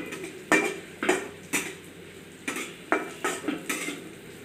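Grated coconut roasting in a pan for winter sonth atta laddu, stirred with a spatula: nine or so sharp scraping clanks against the metal, spaced about every half second, with no talk.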